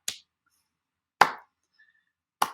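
Three single, sharp hand claps ring out alone in a quiet room, evenly spaced over about two and a half seconds, each crisp and close with a short decay.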